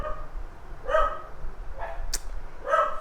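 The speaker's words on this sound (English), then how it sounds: "I have to wait for the dogs to finish barking before I continue the video" Dogs barking at a distance, a few separate clusters of barks spaced out over a few seconds, with a sharp click in between.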